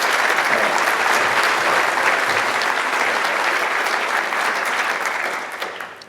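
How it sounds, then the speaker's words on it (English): A conference audience at SciPy 2019 applauds the contributors: loud, sustained clapping from a large crowd that carries on evenly, then thins and fades near the end. "if we could have a round of applause for everyone who's helped contribute"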